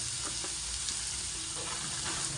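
Chopped green papaya hits a pan with dried chillies and oil to make a thoran, producing a dense, even sizzle with a faint stir tick or two, loud and close, no speech.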